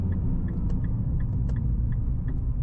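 A Nissan GT-R's engine droning low and steady from inside the car on the move, with a faint repeating ticking running over the rumble and no clear gear-change break.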